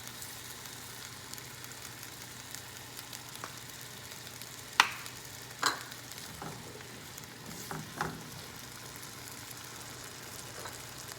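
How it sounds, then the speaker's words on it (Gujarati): Mixed vegetables in a pan with about one and a half cups of water and salt being stirred, a soft steady simmering hiss with a few spoon knocks and scrapes against the pot, no voices. "હલાવી અને મીઠું નાખી અને બધા વેજીટેબલને થવા દઈએ."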